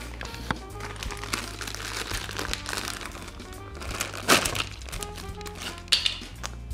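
Schleich advent calendar horse figure packaging unwrapped by hand, with steady close crinkling and rustling of plastic and cardboard, a few sharper cracks and clicks breaking through the continuous crumpling.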